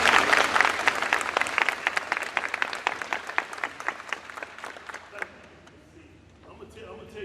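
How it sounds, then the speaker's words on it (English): Audience applause at a community meeting, a dense wash of many hands clapping loudly that gradually thins and fades over several seconds, leaving a quiet room with faint murmuring near the end. "let's give them a round of applause"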